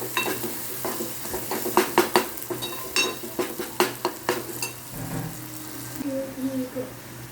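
Sprouted mung bean curry stirred in a pan, a run of close spoon scrapes and clinks over a faint sizzle, with some brief background voices near the end.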